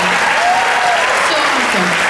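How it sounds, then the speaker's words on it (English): Audience applause at a school awards event, a dense, loud wash of clapping filling the whole stretch, with voices faintly audible beneath it. "Can we get another round of applause?"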